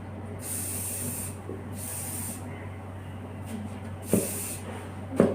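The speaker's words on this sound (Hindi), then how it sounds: "एवरी एंगल शाइन स्प्रे करना है।" Hair shine spray misted over a braid during bridal hairstyling, heard as three long airy hissing bursts with pauses between them and a steady low hum underneath. Faint handling knocks come near the end.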